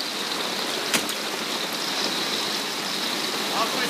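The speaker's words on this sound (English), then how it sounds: "It is raining!" Steady rain falling during a camping trip, a continuous even hiss close by with one brief knock partway through, no voices.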